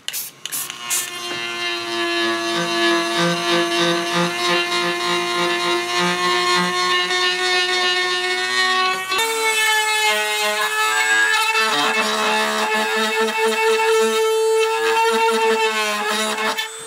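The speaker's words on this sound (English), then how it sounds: "I'll be using the rotary tool to trim down the rest of these edges." Rotary tool trimming the edges of a studio-scale Rebel A-wing prop helmet, a loud, continuous high-pitched whine whose pitch shifts partway through as it grinds, with no talk.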